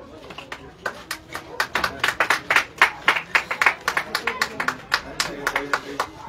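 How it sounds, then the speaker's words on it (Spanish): Crowd applause for a prize winner at a cycling race awards ceremony in Santa Ana Necoxtla: a steady run of sharp hand claps from many people, fairly close and loud, with no talk over it. "Fuerte el aplauso."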